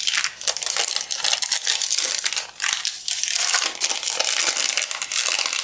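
Dry glassine bags crinkled and crushed by hand, a continuous crisp papery crackle close up with brief pauses, no speech.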